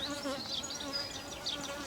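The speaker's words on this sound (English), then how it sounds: "There's even one buzzing around me" A steady insect buzz hums close by throughout, wavering slightly in pitch as a bee hovers nearby, with no voices.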